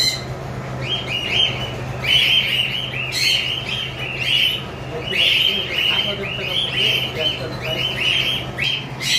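Repeated sharp, high-pitched conure parrot chirps and squawks in quick bursts, fairly close, over a low steady hum.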